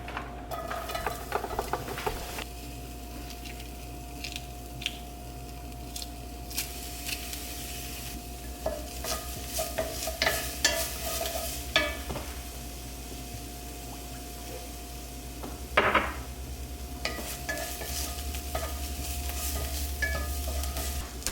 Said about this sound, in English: Get my onions sauteed here.